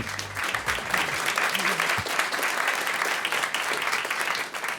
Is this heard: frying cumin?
no